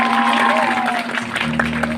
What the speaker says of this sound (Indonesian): Tepuk tangan untuk penabur.